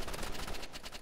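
Rapid gunfire in the Roblox game Rivals, a dense run of quick shots at moderate loudness across about a second with no talk.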